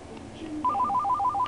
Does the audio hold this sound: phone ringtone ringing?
yes